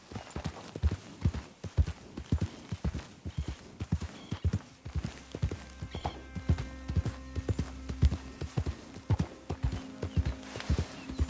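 Horse hooves trotting during riding in the video game Red Dead Redemption 2, a steady rhythmic clip-clop of close, distinct hoofbeats running throughout.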